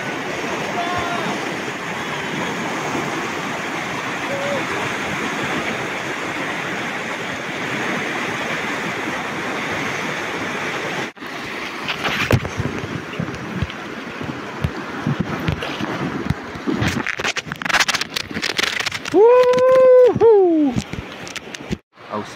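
Fast water rushes over rocks on the Otava river during a canoe trip through the Čeňkova pila rapids near Horažďovice, a steady loud roar for about eleven seconds, then choppier splashing mixed with voices.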